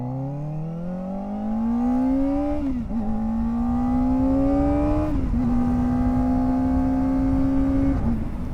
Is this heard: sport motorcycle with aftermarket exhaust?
yes